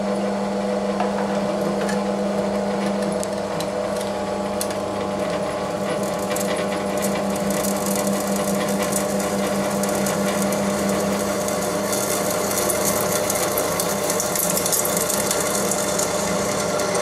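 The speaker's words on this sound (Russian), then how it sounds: "сталь из пилы очень легко сверлится" A drill bores steadily through hardened steel cut from a saw blade, shaping a new knife for a potato digger; a continuous, even mechanical whine with faint metallic ticking runs unbroken throughout.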